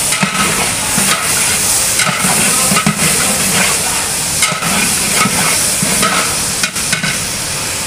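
Pumpkin and tomato pieces are stirred in a hot pan for South Indian sambar, giving a steady, loud sizzle and hiss with scraping stir strokes recurring roughly every second throughout.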